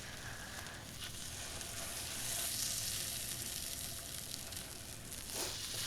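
A steak sears in butter in a frying pan, its continuous close sizzle swelling slightly midway with some faint movement noises and no voices.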